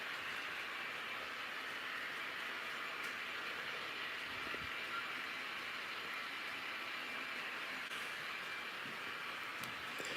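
An HO-scale Bluetooth model locomotive runs along the track with a steady, faint mechanical whir and rolling hiss, continuous and even with a few soft clicks, no speech.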